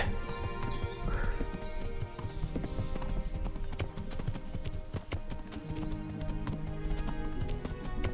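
Horse riding in the medieval game Kingdom Come: Deliverance, with continuous clip-clop of hooves and a neigh near the start, all at a steady moderate level.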